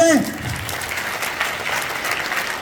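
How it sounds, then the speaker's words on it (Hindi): Schoolchildren applaud at a school event, a dense, steady round of clapping that follows a brief voice at the very start and holds at an even level. "तो आप जोरदार एक बार बच्चे ताली लगाएं"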